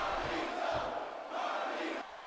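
A wrestling arena crowd cheers and roars in a sustained, dense wash of voices during a Carlito vs Johnny Nitro match, swelling and dipping slightly without any single voice standing out.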